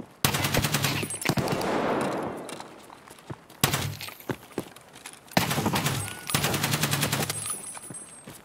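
Bursts of automatic gunfire from the Escape From Tarkov video game, in three loud rapid strings separated by short pauses and scattered single shots, with no talk over them.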